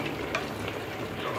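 Vegetables and carrots stirred in a hot pot, a short burst of close, steady sizzling with soft scraping stir strokes.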